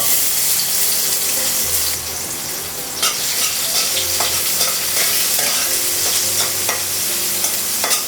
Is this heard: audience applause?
no